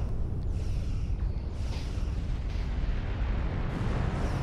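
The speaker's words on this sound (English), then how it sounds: "I got bigger torpedoes." Torpedo explosions in Star Trek Online space combat, a continuous loud rumbling roar of low booms with a few sharper bursts layered through it.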